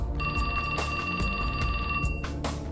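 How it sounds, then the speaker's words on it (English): A telephone ringing in the video game 428: Shibuya Scramble, a bright electronic ring tone sustained for about two seconds over layered game music, then cutting off. "His phone rang."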